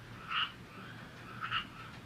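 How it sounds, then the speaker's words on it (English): Little tree frogs croaking outdoors on a rainy day, two short croaking bursts about a second apart over a soft, steady background hum. "y'all know them little tree frogs, they love like moisture, so they're like, they're on the outside now"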